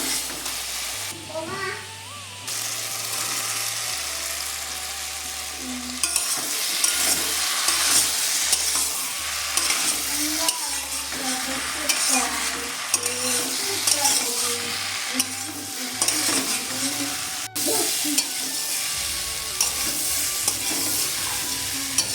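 Egg-fried soybean chunks and potatoes sizzle in a hot pan with spices while a utensil stirs and scrapes repeatedly, with a low background hum throughout.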